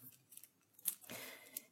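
Plastic wrap being cut and peeled off Middara board game cards: a few short, faint snips and crinkly tearing rustles close up, with quiet gaps between them and no voices.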